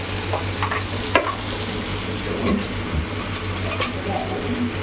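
Garlic fries in a pan at home, crackling with a steady, low sizzle while a spoon scrapes and stirs it in occasional clinks and rasps.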